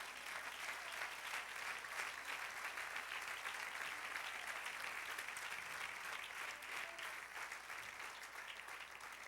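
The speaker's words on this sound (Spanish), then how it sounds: "Dale otro aplauso al Señor." A church congregation gives a sustained burst of applause during a sermon, a dense, steady wash of many hands clapping at once that holds for several seconds without letup.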